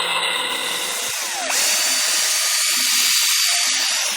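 A PowerFloat motorized equine dental float grinds a horse's teeth along the arcade, a continuous high-pitched electric whine and buzzing rasp, loud and close, with a brief dip in pitch partway through.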